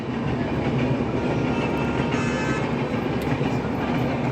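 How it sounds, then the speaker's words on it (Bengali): An express train rumbles past nearby in Udaipur with steady, continuous clatter of wheels on rails, loud and unbroken throughout, with no voices. "এই যে ট্রেন যাচ্ছে কি এক্সপ্রেস জানি না একটা এক্সপ্রেস যাচ্ছে"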